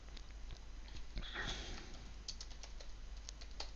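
Someone types text into a WordPress article on a computer keyboard, with scattered soft key taps that are quiet and close. A brief sniff is heard partway through.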